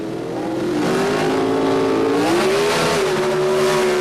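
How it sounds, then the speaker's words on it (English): Pro Stock drag racing cars at the 1977 NHRA Summernationals, including a Hornet, launching off the line with a loud, sustained engine roar that climbs steadily in pitch, close and dominant. "Here he is facing Andy Manarino, driving the Hornet X."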